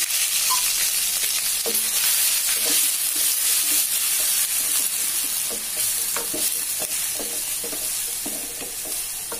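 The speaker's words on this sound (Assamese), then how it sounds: "পিঁয়াজৰ কেঁচা গোন্ধ নোযোৱালৈকে মই ভাজি থাকিম।" Ground ginger and onion paste frying in oil in a pan on low gas, with a loud continuous sizzle and repeated utensil stirring knocks and scrapes, no talking.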